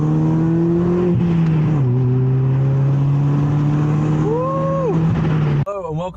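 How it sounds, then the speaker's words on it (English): A loud 1.4 Ford Fiesta engine drones and climbs in pitch, straining, easing off and revving again, then cuts to a brief warbling tone at the end. "If we get the window down, you can hear the engine struggling"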